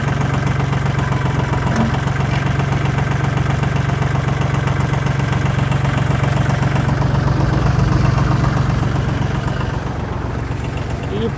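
A Kubota L1-22 mini tractor fitted with a front loader and a tiller runs at a steady idle. Its continuous low rumble and knocking engine hum sound close and even throughout.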